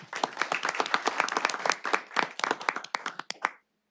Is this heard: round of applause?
yes